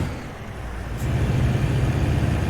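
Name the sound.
Volvo truck Cummins engine in American Truck Simulator video game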